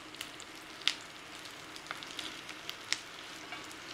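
Keto crab cakes frying in a pan, a quiet, steady sizzle with scattered small pops and crackles spread across a few seconds, no voices.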